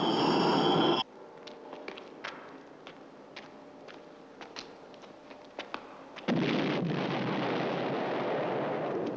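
Repeated muffled blasts and sharp bangs of explosions on a planet surface in the science-fiction series Space: 1999, popping irregularly over a low rumbling background, bracketed by denser roaring noise at start and end.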